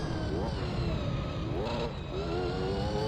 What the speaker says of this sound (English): Listening to the car rev on its limit for 25 minutes is tremendous.